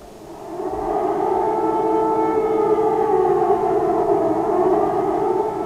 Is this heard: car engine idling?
no